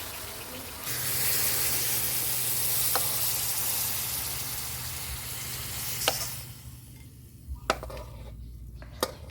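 Shrimp with Thai eggplant and chili paste stir-fry in a hot pan, a loud dense sizzle that cuts out partway, followed by a few sharp clanks of a utensil against the pan.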